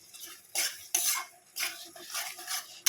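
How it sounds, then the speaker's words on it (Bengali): Boiled mutton being stirred and fried with spices in a pan, heard as scraping strokes of a spoon against the pan in several bursts with a light background sizzle, no voices. "এবার মশলার সঙ্গে মাংসটা ভালো করে কষে নেব।"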